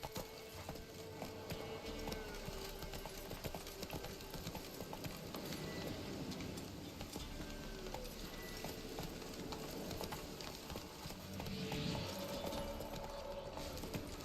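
Roach, Geralt's horse in The Witcher 3, gallops with steady rhythmic clip-clop hoofbeats throughout, close and continuous over a busy backdrop of game music and ambience, with no talking.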